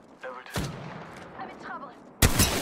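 Video game gunfire from an online squad shooter: two loud, sharp bursts, one early and one heavier near the end, with faint game effects and a voice between them.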